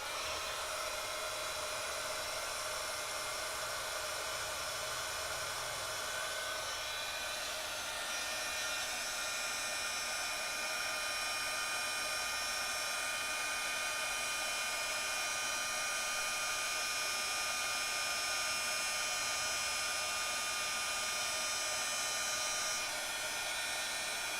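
A heat tool runs continuously to melt silver embossing powder on a 5x7 wedding card, a steady, fairly quiet whooshing hum with a faint high whine, unbroken and without speech.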